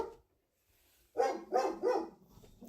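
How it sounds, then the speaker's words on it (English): A dog barks three times in quick succession, fairly close and moderately loud, in a quiet indoor room during a resin pour craft session, with no talking over the barks. "Sorry about the dog."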